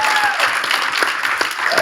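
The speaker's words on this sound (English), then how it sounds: "I think we ought to give him a round of applause." An audience at a church discussion event breaks into loud, dense applause that holds steady through the whole short stretch, with some voice mixed in.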